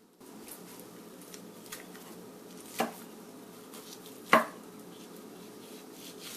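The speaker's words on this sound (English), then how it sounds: "First thing you want to do is trim off some of this fat cap" A knife trims the fat cap off a beef shoulder roast on a cutting board, giving two distinct sharp cuts against a quiet, faintly hissing background.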